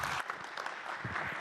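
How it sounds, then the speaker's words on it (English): Brief applause from a conference audience welcoming a keynote speaker at a 5G event, a quiet, continuous patter of clapping. "A big applause for him, please."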